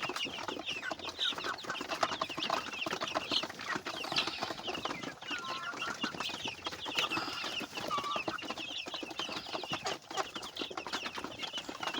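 Chickens on a small village farm raising two-month-old birds, clucking and calling continuously at close range in a busy overlapping flock chorus, with no talking.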